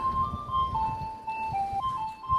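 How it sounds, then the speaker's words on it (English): A garbage truck in Japan plays a simple electronic tune of sustained notes, stepping up and down over steady low engine rumble. "That's a garbage truck making that sound."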